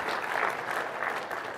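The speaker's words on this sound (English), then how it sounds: "the applause indicates you see the value" Steady applause from a conference audience, a soft continuous wash of clapping at moderate distance with no talking.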